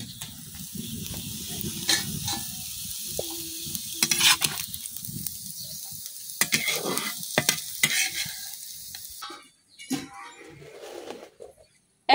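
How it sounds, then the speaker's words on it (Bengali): Dried red chilies fry in oil over low heat after ginger, garlic and onion are browned, giving a steady close sizzle with scraping stirs that fades toward the end. "এখন আমি ভাজি করে লিয়াম শুকনা মরিচ।"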